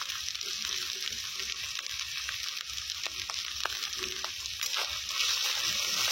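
Onions fry with ginger-garlic paste, salt and turmeric in a pan, a steady bright sizzle with scattered pops and faint stirring scrapes, close and continuous with no talk.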